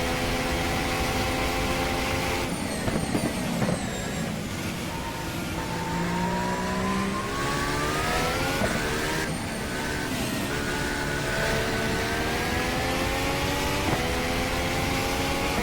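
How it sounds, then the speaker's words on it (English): A Formula 1 car engine in the racing game rFactor drones and revs through gear changes, pitch climbing and dropping repeatedly, with a whistling turbo layered over the steady, loud mechanical roar. "really get some great turbo and motor noises in this car"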